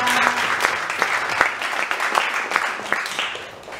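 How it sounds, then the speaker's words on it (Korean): Applause of encouragement from a church congregation at an online Full Gospel Holy Spirit gathering, a steady dense patter of many hands clapping with a few sharper claps standing out, fairly close and alone. "온라인에서 우리 계시는 형제 자매님들에게 격려의 박수."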